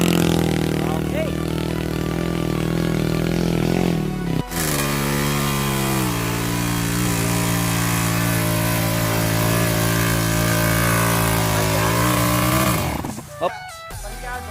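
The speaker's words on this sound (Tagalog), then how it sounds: "Palyado po yung makina." Motorcycle engine with a misfire, idling and running loudly and close for a long stretch with a steady drone, dipping briefly partway through before cutting out near the end.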